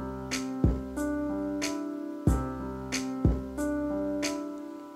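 A quantized piano pattern on a Yamaha PSR or Tyros electronic keyboard, repeating chords struck in a steady rhythm with clear note attacks, played alone.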